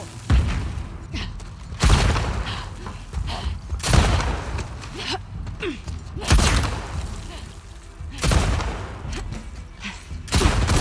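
Gunfire from The Last of Us Part 2 video game: repeated loud bursts of shots and booms every couple of seconds, with a rumbling mix of combat noise between them.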